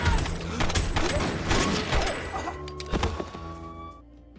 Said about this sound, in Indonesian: Di sini para geng motor langsung menembaki Cruz dan Bobby yang asli